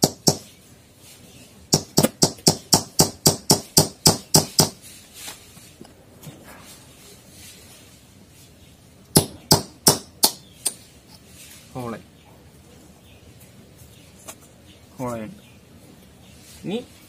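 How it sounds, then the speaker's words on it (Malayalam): Rapid series of sharp metallic taps as a small nail is hammered into a coconut shell, two clustered bursts of about a dozen and then four hits, with someone speaking briefly in between. "എന്നിട്ട് നമ്മൾ കറക്റ്റ് ഹോളടിക്കുന്ന സ്ഥലം നോക്കിയിട്ട് ഒരു ചെറിയ ആണി ചുറ്റിയെടുക്കുക"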